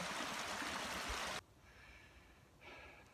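Roush Creek flowing near a campsite on the Appalachian Trail, a loud broadband rush of water for over a second, then cutting to a much quieter, faint background wash.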